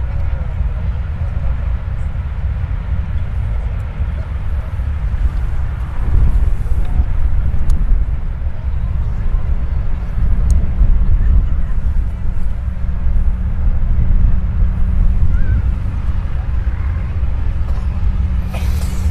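Deep engine drone of a Stearman biplane at an air show at Bienenfarm airfield, a continuous low rumble that swells louder partway through and holds steady to the end.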